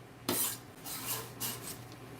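Chopped cabbage scraped and shifted into a colander, a scrape at the start and then a few brushing, rustling pushes up close, with a low steady hum underneath and no talking.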